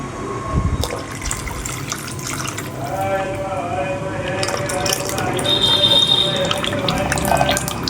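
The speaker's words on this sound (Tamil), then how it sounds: "இப்போ இதில் நம்ம ஒரு கோலி சைஸ் புளி தண்ணியை ஊற்றிக்கலாம்." Strained tamarind water pouring and splashing steadily into a vessel, with a faint voice and some crackling in the background.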